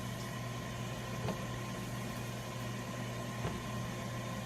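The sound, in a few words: air fryer running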